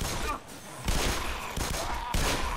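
Loud bursts of gunfire in the video game Black Mesa Source, several dense volleys in quick succession over about two and a half seconds, close and continuous.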